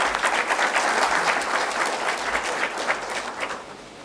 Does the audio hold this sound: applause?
yes